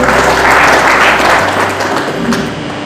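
A church congregation claps to glorify the Lord, dense, loud applause that slowly fades over a low hum.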